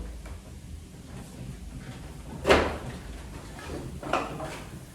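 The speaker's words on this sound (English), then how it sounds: "from here, we can get into the swell through this sliding door" A sliding door into the swell division of an Aeolian-Skinner pipe organ rolls open with a sharp knock and a second fainter bump, over quiet room rumble.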